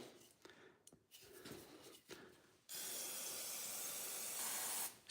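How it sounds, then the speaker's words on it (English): Pam cooking spray hisses in a loud, steady burst of about two seconds, applied to aluminum rollers on a 1968 Chevy C10 with a 6.0 engine, following a few quieter rubbing and handling noises. "spray your rollers"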